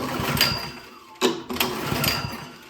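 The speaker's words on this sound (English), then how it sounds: "I just want to pull the engine over." A Toro snowblower engine that backfired and won't start is pulled over by its recoil starter, giving a few whirring, rasping pulls with compression strokes, close and fairly loud.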